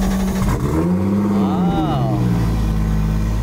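A Toyota GT86 fitted with anti-lag revs on a dyno, its engine note climbing and falling in a sweeping rise under a steady roar, with a person briefly exclaiming over it.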